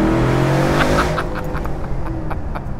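A Land Rover Defender fitted with a big LT1 V8 engine, driven hard: a loud engine roar with some tyre noise fades from full power into a steadier, quieter run.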